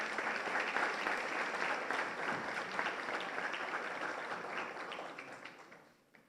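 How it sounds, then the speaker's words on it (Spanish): A hall audience at a Supreme Court justice's lecture breaks into steady, dense applause that holds for several seconds and then fades out. "pido que le recibamos con un fuerte aplauso"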